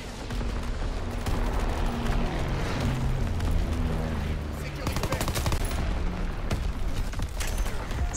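Rapid gunfire in a video game shootout near an arcade: dense, overlapping bursts and shots that fire almost continuously for several seconds, loud and close, with voices faintly underneath.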